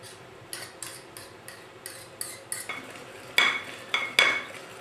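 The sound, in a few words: stirring beaten eggs into butter sugar mixture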